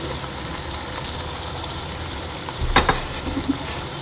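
Ground masala frying in oil in a pan for chicken karahi: a steady, close sizzle throughout, with a short burst of louder spattering and stirring near the end.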